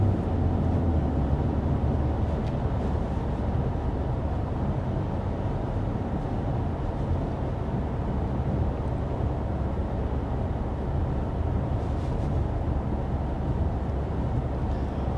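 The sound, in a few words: BMW X3 M40i driving at 55 mph in comfort mode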